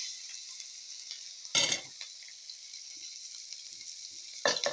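Rice frying with garlic in a pan gives a soft, steady sizzle, broken twice by louder scraping stir bursts; no talking is heard.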